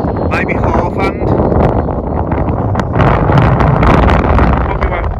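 Strong wind buffeting the microphone at an RC jet flying field, a constant loud low rumble throughout with brief rustling gusts, while someone talks over it.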